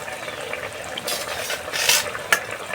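Soybean vegetarian fish pieces drop into a frying pan, giving a steady sizzle that swells into louder bursts of spattering and a sharp clink, heard up close without speech.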